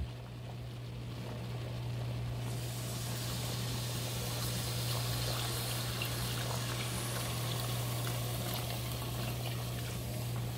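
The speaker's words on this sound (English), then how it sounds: "We add our milk." Milk poured steadily into a pot of roux for macaroni and cheese makes a continuous gushing, bubbling sizzle that holds for several seconds over a low steady hum.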